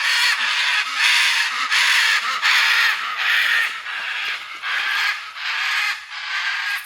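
Two large parrots calling from their roost near a river in La Fortuna, Costa Rica, giving a run of loud, harsh, raspy squawks in quick repeated bursts, close by with no talking.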